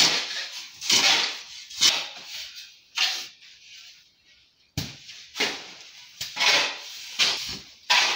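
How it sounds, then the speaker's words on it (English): Homemade snail feed is stirred and scraped in a container in close, irregular bursts of rustling and scraping, with short pauses between strokes. "So the next thing we are going to do now is to mix this feed properly"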